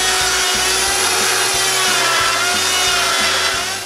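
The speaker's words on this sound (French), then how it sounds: "je les coupe droites avec la scie circulaire" A circular saw whines loudly and steadily through wooden boards, its rasping cut continuous and close, with rhythmic low thumping underneath.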